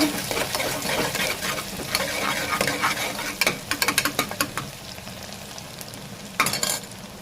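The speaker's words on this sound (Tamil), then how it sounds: "பெரிய வெங்காயம் நல்லா வதங்க விடுங்க." Large onions fry in a pan with a steady close sizzle, while frequent scraping and clattering stirs of a spatula come in quick bursts throughout.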